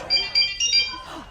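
Kim Possible ringtone, a short series of bright electronic beeping chirps with a voice talking over the end.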